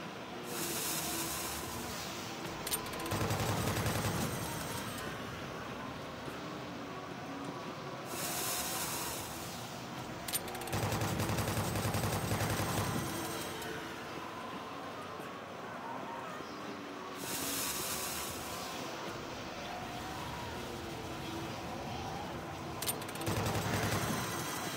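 Machine gun fire rattles in long, loud bursts of several seconds that repeat every few seconds, with a constant hiss between them.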